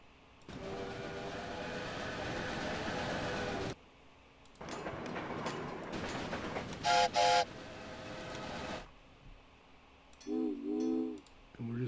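Trains running in the Railway Empire game on a Sierra Nevada line: steady rumbling rail noise in long stretches, broken by a short double horn blast near the middle and another tooting whistle toward the end.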